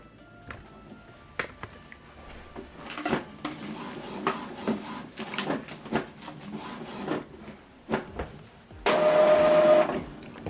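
An Epson WorkForce 2950 printer initializes after new ink cartridges are installed, producing a series of mechanical clicks, clunks and short whirring bursts, followed by a steadier motor hum near the end.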